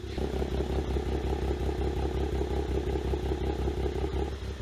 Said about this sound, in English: Take a listen to this engine.